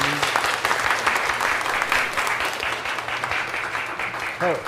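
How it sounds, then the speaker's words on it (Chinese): A church congregation applauds during an Easter Sunday service to welcome new members, a steady broad clapping that fills the room, with a voice speaking faintly underneath and a brief tonal sound near the end. "咱也搁一届鼓掌来欢迎"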